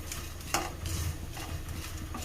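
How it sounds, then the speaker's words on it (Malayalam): Mango thoran is stirred and roasted in a pan, a soft scraping swish of a spoon through the mixture with faint sizzling underneath and one sharper clink of utensil against the pan. "അപ്പോൾ നമുക്കിതൊന്ന് റോസ്റ്റ് ചെയ്തെടുക്കാം"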